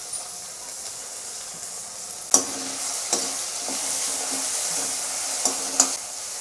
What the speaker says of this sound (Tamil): தக்காளி வெங்காயம் எல்லாம் நல்லா வதங்கிடுச்சுங்க